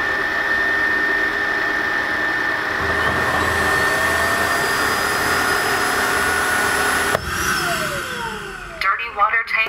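A Tineco Floor One S3 wet-dry vacuum cleaner runs with a loud, steady motor whine and airflow hum close by, its pitch shifting slightly midway before the motor winds down near the end.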